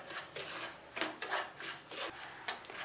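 A spatula scrapes and rubs through dry semolina roasting in a pan, in repeated rhythmic strokes, close and moderately loud.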